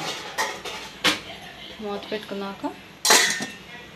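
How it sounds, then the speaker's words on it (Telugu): Metal lid set onto a cooking pot of sambar in a home kitchen, several sharp clanks and clinks near the mic, with a louder final clatter. "మూత పెట్టేసుకుందాం."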